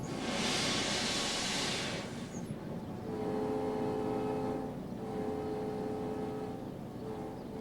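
A diesel-electric train in Mexico rumbles steadily past with a loud hiss and roar of wheels and engine, its low droning tones continuing throughout.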